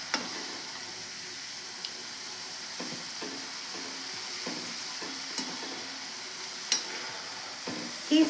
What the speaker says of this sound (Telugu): ఈ విధంగా అయితే బాగా కొద్దిగా లైట్గా ఫ్రై చేసుకోవాలండి, మరి ఒకటేసారి ఫ్రై చేయకూడదు.